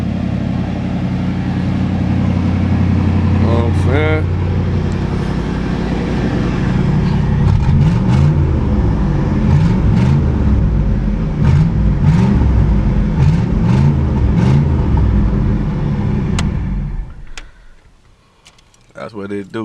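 A 1984 Monte Carlo SS with a 305 V8 idles loud and close, blipping through repeated rumbling revs under intermittent talking voices, then the engine cuts off near the end, leaving quieter ambience.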